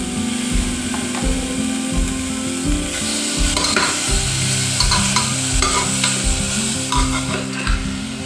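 Chicken pieces fry in a pan with a loud continuous sizzle, punctuated by rhythmic scraping and knocking as a spatula stirs against the pan, close up and without talk.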